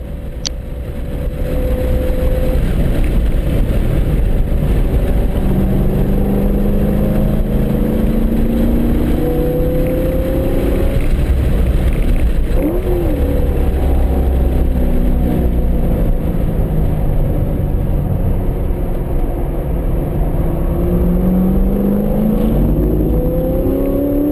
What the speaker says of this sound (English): There you see that 650 horsepower pulling away from me